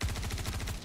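Gunfire in the Star Citizen video game comes as a rapid burst of several low, punchy shots in quick regular succession, loud and close, lasting under a second with no talk.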